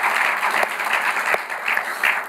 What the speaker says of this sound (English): Can we just give Katie a round of applause?